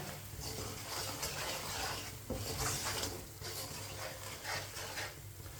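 Spices cooking on a low flame in a pan for Winter Special matar gobhi (peas and cauliflower), with a steady soft sizzle and occasional stirring scrapes throughout, moderately quiet and without talk.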